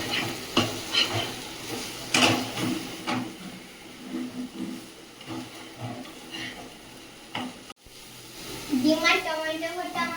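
Egg and tomato stirred and fried together in a pan, a steady sizzle broken by repeated scraping stirs, with a voice speaking over it and a brief dropout near the end.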